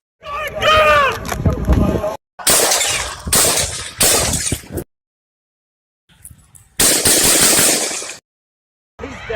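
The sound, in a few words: gunshots, machine gun fire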